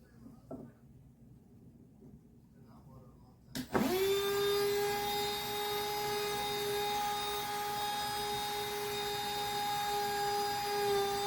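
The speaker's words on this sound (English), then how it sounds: "I have a good grip on the drill." A cordless DEPSTECH mini rotary tool, 8V with up to 30000 RPM, starts up after a quiet moment and drills into a wet stone, giving a steady high-pitched whine with bright harmonic tones that stays loud and even to the end.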